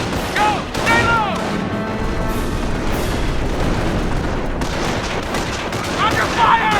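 Dense battlefield gunfire in the video game Company of Heroes, rattling machine-gun bursts and booming explosions layered thickly and continuously, with shouted voices mixed into the combat.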